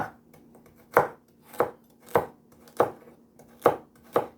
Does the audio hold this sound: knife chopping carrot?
yes